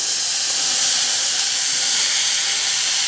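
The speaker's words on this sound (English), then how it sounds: "Throw in your corn with that butter." Canned corn, drained and tipped whole into a pot of melted butter, gives off a steady loud hissing sizzle that runs unbroken and close throughout.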